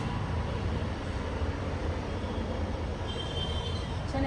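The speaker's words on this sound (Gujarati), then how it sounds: "જો મેટ્રો આવેલી જાય છે, જો આ છે મેટ્રોની સવારી જોરદાર હોય છે." A Delhi Metro train runs past close by outdoors, its steady broadband rumble and rolling roar filling the whole stretch at a constant loud level.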